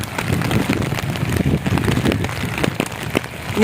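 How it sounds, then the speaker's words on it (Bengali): Heavy downpour drums on an umbrella and a flooded street at Haripur market in Sylhet, a loud unbroken roar with crisp drop hits close overhead and no talking. "ঝুম বৃষ্টি হচ্ছে"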